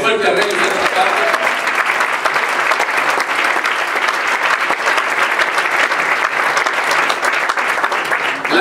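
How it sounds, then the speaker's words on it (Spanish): Church congregation giving loud, sustained applause during a sermon, dense continuous clapping filling the room for over eight seconds, with voices calling out underneath. "Le da un aplauso fuerte a Reyes de esta tarde."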